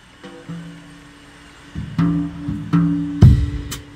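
A pop song plays through a newly installed compact audio system in a car, with sustained tones over punchy bass thumps that build louder toward the end.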